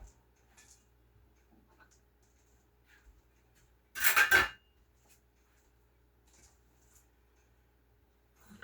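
A knife chops cucumber into cubes on a cutting board in a home kitchen, a single quick cluster of taps midway through an otherwise quiet stretch.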